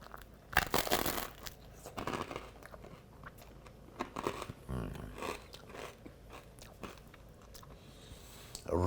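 Close, crunchy bites and chewing as someone eats eggs puttanesca with crusty ciabatta bread, several sharp crunches early on followed by softer, irregular mastication, no talk.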